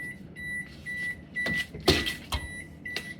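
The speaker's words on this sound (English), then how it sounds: "Because every time you do it, you're resetting it. Yeah. That's why it keeps beeping." A new refrigerator beeps after being reset, giving short, faint electronic tones at intervals. Soft knocks and handling noises come and go between the beeps.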